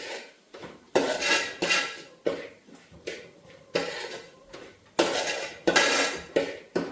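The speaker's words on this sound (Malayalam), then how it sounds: "ഇനി നമുക്ക് നന്നായിട്ട് ഇളക്കി കൊടുക്കാം." Masala spices are stirred in a pan, and a metal spoon scrapes and clanks against it up close. Roughly one stroke per second gives a steady, repeated rhythm with no talking.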